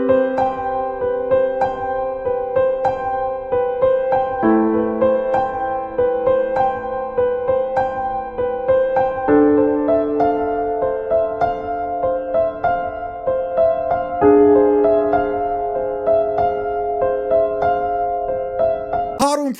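Solo piano plays a simple romantic song, a steady right-hand melody over sustained left-hand chords that change every few seconds, alone and at an even moderate level.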